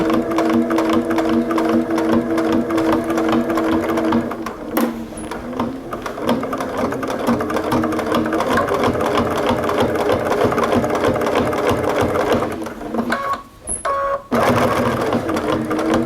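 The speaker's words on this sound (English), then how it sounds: "I am stitching over my pins" A sewing machine runs steadily for about twelve seconds, stitching binding over pins on a towel oven mitt, then stops briefly and restarts for a short final burst.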